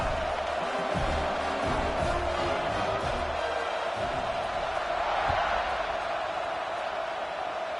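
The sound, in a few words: stadium crowd buzzing in College Football 26 video game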